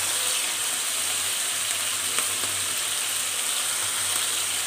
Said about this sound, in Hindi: अब मैं इसमें गार्लिक पेस्ट और जिंजर पेस्ट ऐड कर रही हूँ और हरी मिर्चों का पेस्ट, इसको अच्छी तरह से सौते करेंगे